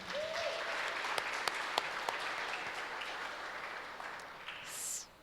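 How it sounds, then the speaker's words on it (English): Continuous applause fills a room at a youth oratorical contest, fairly soft and steady with a few sharper claps, tapering off near the end. "Round of applause for Isaiah."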